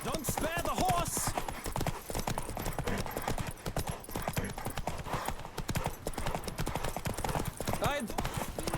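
Galloping horse hooves pound in a fast, steady rhythm throughout a horse race in the video game The Witcher 3, loud and close, with shouted voices and an occasional whinny over the hoofbeats.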